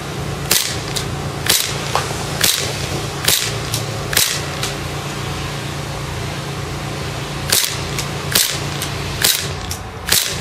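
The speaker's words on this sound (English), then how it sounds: "Give you guys some cool first-person shooting." A Cybergun KJW Sig Sauer P226 airsoft pistol fires a string of sharp, close cracks, some in quick pairs with pauses between, over a steady hum of background noise from street cleaning nearby.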